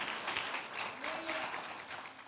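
A church congregation applauding during a Spanish-language sermon, the clapping steady and moderately distant. A faint tonal sound runs through it, and no clear voice rises above the applause.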